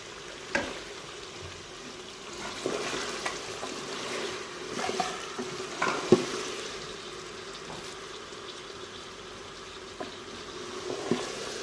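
Peas go into a pan of carrots frying lightly for Chinese pulao. A soft steady sizzle runs throughout, broken by a few sharp clatters and stirring knocks, close up with no talking.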